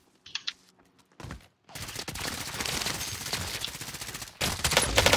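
Gunfire in the online shooter Warzone: a few scattered clicks and short bursts lead into dense, rapid automatic fire that rattles loudly and almost without pause, then breaks off briefly and resumes.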